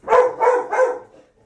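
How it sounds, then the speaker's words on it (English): A dog in a recording studio gives three quick, loud barks in a row, close by, which then trail off into quiet. "that was Nala the studio dog barking there."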